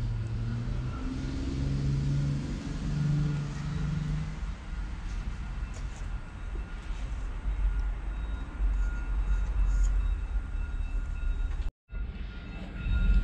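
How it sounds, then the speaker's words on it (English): A train rumbles past nearby, a steady loud low roar with rattling and rail noise that holds for the whole stretch. "the train's about to go by."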